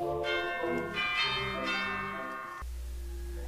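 A bell rings at a cottage door in bright, ringing strikes that overlap and sustain. A low steady hum follows as the ringing stops.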